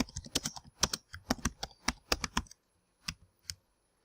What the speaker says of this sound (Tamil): இந்த மாதிரி நான் டைப் பண்ணிடுறேன்.